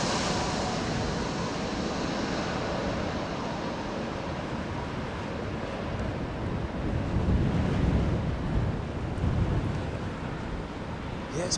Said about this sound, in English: I tell you, it's blustery.